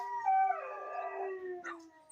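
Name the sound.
dogs barking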